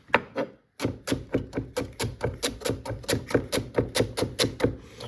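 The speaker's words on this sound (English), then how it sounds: "I'm going to snap up my celery, get it all into little strips like this" Celery stalks snapped by hand into little strips for slow-cooked beef shin: a steady run of about fifteen crisp, sharp cracks in even rhythm, close and clear, with no voices.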